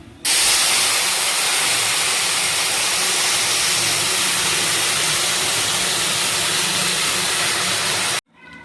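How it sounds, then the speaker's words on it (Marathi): Water poured into hot roasted semolina, a loud, sustained rush of hissing steam lasting about eight seconds before cutting off abruptly. "आता कणी भाजून झालेली आहे आपण त्यामध्ये पाणी ओतणार आहे"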